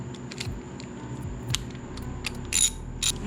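Small ratcheting clicks and metallic mechanism sounds come from tightening down a wire connection while installing a relay kit on a 2015 Kawasaki Vulcan S motorcycle, close and intermittent with a few sharper bursts near the end.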